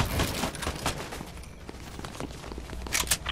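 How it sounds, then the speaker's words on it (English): Sniper shots and gunfire in a first-person shooter video game, with several sharp cracks scattered through the clip alongside quick footstep-like taps, moderately loud and without talk. "They're sniping."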